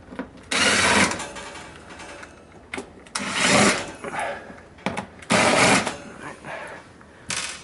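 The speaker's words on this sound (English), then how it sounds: "Take out these three screws." A power tool whirs in three or four short, loud bursts of a few seconds each, backing out screws on a Samsung stove that has a hot indicator light that stays on, with quiet pauses between bursts.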